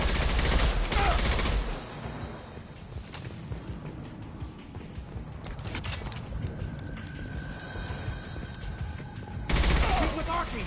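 Gunfire from the video game Mass Effect 2 crackles in rapid bursts over dense combat noise, with louder volleys at the start and end and voices shouting during the firefight.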